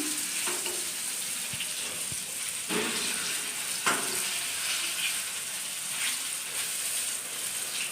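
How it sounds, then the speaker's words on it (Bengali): Dishes are washed at an outdoor water tap on a cold day, with running water splashing steadily and scattered clinks and scrapes of utensils close by, and no talk over them. "কলের পাড়ে বাসন মাজছি"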